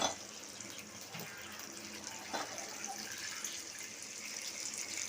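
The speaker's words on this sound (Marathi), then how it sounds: "यामध्ये पाणी घालायचं आहे अर्धी वाटी" Water runs steadily from a tap into a pan, a soft continuous splashing stream with a few brief clinks, fairly quiet and with no voices.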